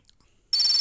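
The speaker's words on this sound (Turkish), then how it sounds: "Ah, telefonum çaldı." A phone rings in the Toca Boca Life game's robot cafe: a steady, bright electronic ringtone starts abruptly after a brief quiet moment and continues loudly on its own.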